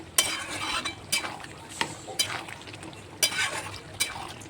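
Chicken pieces cooked down with meat masala in a pan, a spatula scraping through them in sharp strokes roughly once a second over a low, steady sizzle, close and fairly loud with no voices.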